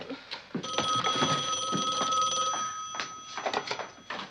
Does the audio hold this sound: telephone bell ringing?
yes